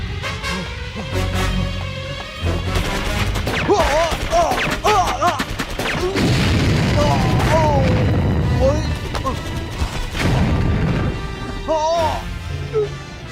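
Action-movie battle sound as a temple is blown up: repeated booms, crashes and bursts of gunfire in a dense, loud mix, with shouting voices over the top.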